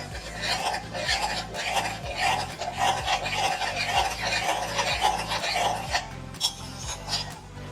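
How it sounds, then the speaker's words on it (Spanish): Homemade avocado seed shampoo with castor oil being stirred, a rhythmic rasping scrape of a utensil around a container, steady and close, with no talk. "Ahora lo que vamos a hacer es que vamos a remover."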